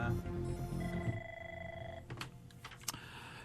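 A telephone rings with steady electronic tones for about two seconds, followed by a few sharp clicks as it is picked up.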